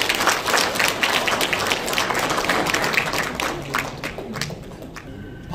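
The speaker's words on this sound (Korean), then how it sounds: "뜨거운 환영의 박수로 모시겠습니다." An audience at a lecture by a member of parliament gives warm welcoming applause, with loud, close, uneven clapping that carries on throughout and thins slightly toward the end.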